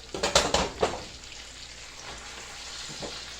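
Potatoes sizzling in a pan on an outdoor camp cook with freshly caught perch, as a few clattering stirring scrapes at the start give way to a steady soft frying hiss and one more light scrape near the end.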